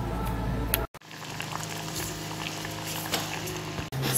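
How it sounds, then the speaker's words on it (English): Plantain boiling in a pot of water over a fire makes a steady bubbling, rolling churn interrupted by a couple of brief cuts, with no one talking. "then we would have to go and boil this plantain"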